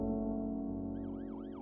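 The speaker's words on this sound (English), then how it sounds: "The sound of an ambulance wheeling into the receiving room below shatters your train of thought." An ambulance siren wails, rising and falling in sweeping tones over a steady low drone, fairly loud and close, as it pulls into a hospital receiving area.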